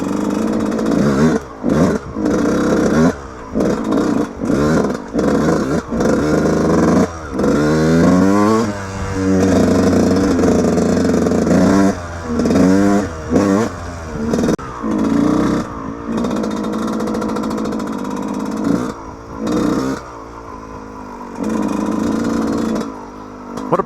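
A Yamaha YZ125 two-stroke dirt bike rides an off-road trail, its engine revving hard and rising and falling in pitch again and again, loud and close from the rider's position, with no voices.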